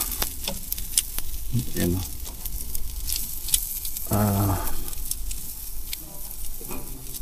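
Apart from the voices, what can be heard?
marinated chicken sizzling while cooking in a pan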